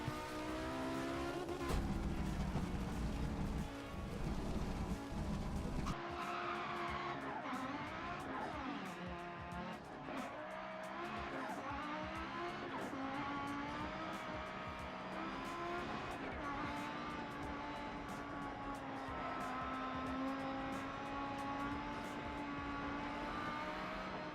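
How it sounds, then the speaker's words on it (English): An Audi Sport Quattro S1 rally car in Dirt Rally climbs Pikes Peak near Colorado Springs, its engine revving up and dropping through gear changes, with occasional tire squeal, loud and continuous throughout. "We're now in Dirt Rally, driving the rally version of the Sport Quattro S1 up Pikes Peak at Colorado Springs"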